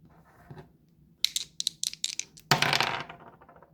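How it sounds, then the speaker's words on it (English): Dice rattle and clatter as they are rolled onto a hard surface for a tabletop book-selection game, first a quick burst of small clicks, then a louder tumbling spill that fades out. "Okay, third roll of the dice."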